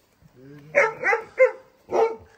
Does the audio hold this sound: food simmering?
no